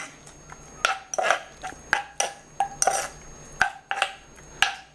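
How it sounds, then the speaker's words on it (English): A spoon stirring lobster crab cake mixture in a bowl, giving irregular clinks and scrapes against the dish at close range, with short pauses between strokes and no talking. "Gonna stir that around and just let it soak up"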